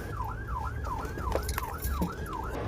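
A police car siren wails continuously, sweeping up and down in a steady repeating cycle at moderate loudness over low background rumble, with no talk.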